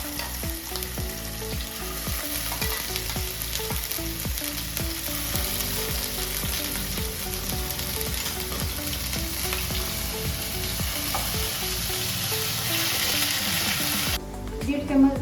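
Homemade masala paste dropped into hot oil for a Vidarbha-style patvadi rassa, frying with a dense, continuous close sizzle and steady stirring throughout, while music plays faintly underneath and no one speaks.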